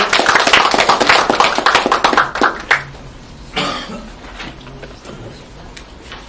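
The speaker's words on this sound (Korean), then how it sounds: "힘찬 박수 부탁드리겠습니다." A small audience at a lecture on the 1987 constitution claps to welcome a speaker, a close burst of distinct, loud hand claps that thins out after nearly three seconds into a quiet room with a stray cough or tap.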